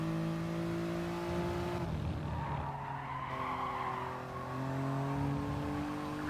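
A race car in a racing video game runs at full throttle around Sardegna Track B, its engine a steady high drone with shifting harmonics and brief tire noise, loud and continuous.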